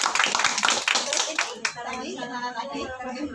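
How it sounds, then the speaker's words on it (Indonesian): Audience clapping at an Indonesian gathering, a burst of rapid hand claps in the first half that fades as people talk over it. "Tepuk tangan untuk yang Blitar, Jawa Timur."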